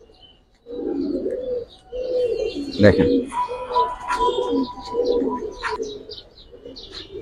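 Pakistani Kalpetti pigeons coo repeatedly at close range in low, throaty bursts, with a few higher chirps, while someone talks over them.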